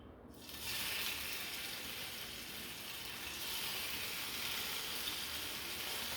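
Masala-coated anchovy fish hit hot oil in a pan, giving a steady, close hiss of frying that swells slightly and holds without pause.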